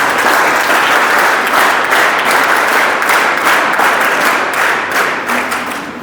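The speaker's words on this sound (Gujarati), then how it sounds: "જોરદાર તાળી તમામ બાળકો" Loud, sustained audience applause at a school annual function in Ugat, Surat, as prize-winning children are cheered; dense clapping continues steadily for several seconds and eases slightly at the end, with no talk over it.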